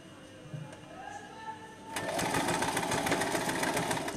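Sewing machine double-stitching a narrow rubber elastic strip: a quiet opening with faint background sound, then a rapid, steady mechanical stitching chatter that starts abruptly and continues loud to the end.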